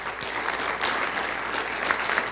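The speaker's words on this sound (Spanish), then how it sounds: "Dale pero un fuerte aplauso a Dios." A church congregation breaks into loud, sustained applause, many hands clapping densely and continuously for a couple of seconds.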